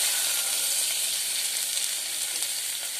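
Potato and carrot pieces fry in a pan, giving a constant bright hissing sizzle heard up close and alone.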